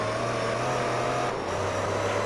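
A race car engine in Gran Turismo 3, a loud steady engine drone with a sustained tone that drops slightly in pitch midway, heard alone without talk.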